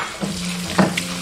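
Doubanjiang, garlic whites and red pepper stir-fried in a wok, giving a soft sizzle with a couple of brief scraping stir strokes over a low steady hum.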